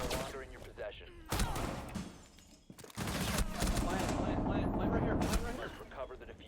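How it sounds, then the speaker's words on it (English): Rapid bursts of gunfire from the tactical shooter Rainbow Six Siege, played on a controller, crackle in dense volleys with a short lull midway, while a voice talks over the action. "He's shooting at me!"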